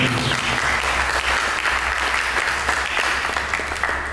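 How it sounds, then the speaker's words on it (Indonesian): A church congregation gives a sustained round of applause during a sermon, a steady dense wash of many hands clapping at fairly even loudness, with a low hum underneath. "Mari kita berikan tepuk tangan."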